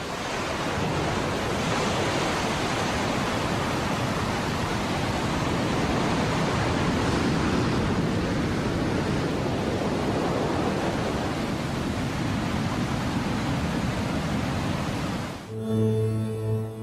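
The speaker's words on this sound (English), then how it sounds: "For several kilometers, this raging tide tears whole blocks of sediment out of the mountains." Raging Nile floodwater in Ethiopia tears sediment from the mountains with a loud, steady, close roar of rushing water. The roar runs unbroken until a few seconds of music cut in at the end.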